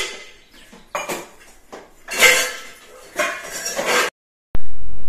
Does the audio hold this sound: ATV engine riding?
no